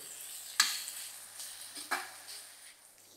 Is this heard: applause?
no